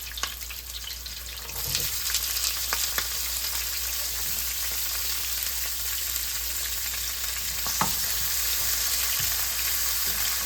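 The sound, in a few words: onions frying in a pan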